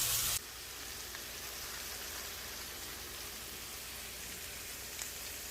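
A steak sizzles in a pan during breakfast cooking, making a faint, even, rain-like crackle that runs steadily for several seconds after a brief louder burst at the start, with no talking.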